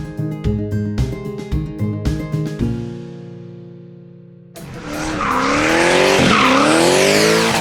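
A drift car at a drifting competition in Lithuania skids with loud tire squeal for the last three seconds, after a stretch of rhythmic music.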